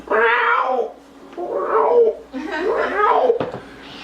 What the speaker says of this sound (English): You hear this cat in heat?